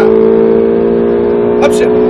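A Ferrari 458 Italia V8 pulls hard on a track, its engine a loud steady drone that rises in pitch, with a brief break near the end as it shifts up a gear; someone talks over it.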